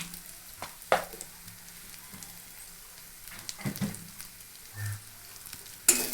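Green jackfruit frying in a pan with chili powder, coriander powder, salt and sugar, a steady close sizzle broken by occasional stirring scrapes and clacks, with no talking.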